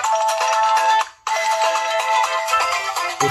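A Tecno Spark 6 Go phone ringtone plays loudly as a bright melodic tune, cutting off briefly before starting again.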